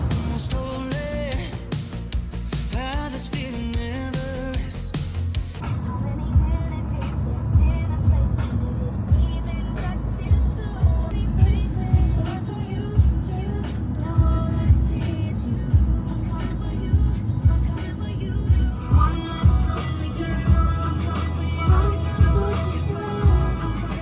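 A car on a road on Geoje Island in South Korea gives a steady low engine and road rumble with bumps and knocks from inside the cabin throughout, and brief voices near the start.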